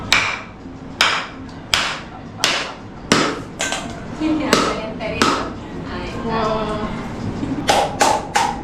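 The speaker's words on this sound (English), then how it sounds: "we're gonna use that to break the coconut" A wooden oak manduco mallet strikes a coconut in a Colombian kitchen in Cartagena, giving about a dozen sharp, loud thwacks at an irregular pace. Faint voices sit underneath the blows.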